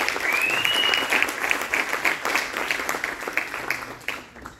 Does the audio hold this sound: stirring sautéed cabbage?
no